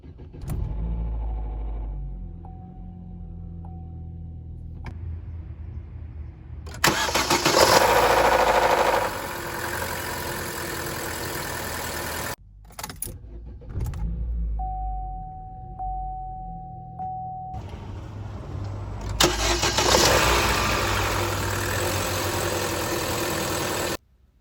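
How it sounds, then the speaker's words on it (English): A Chevy Cruze 1.8 engine with worn VVT sprockets starts up twice, each start a loud burst that settles into a steady idle, separated by a moment of quiet, with no voices. "if your engine's making this rattling sound on startup, then it's your VVT sprockets that need replacing"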